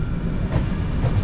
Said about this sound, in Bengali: বর্ধমান থেকে ছেড়ে দিল আমাদের ট্রেন।